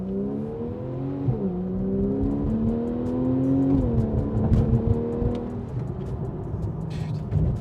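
A Porsche 911, 50th anniversary model, revs as it downshifts into first: a loud, close engine note that climbs and dips in pitch through the blip, then settles into a steady rumble.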